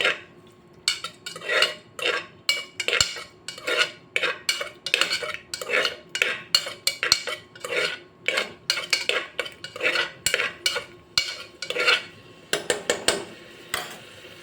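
Paneer pieces fry in a pan while a metal spatula scrapes and knocks against it in a quick, rhythmic series of clanks. The sound is close, with short pauses and no talking.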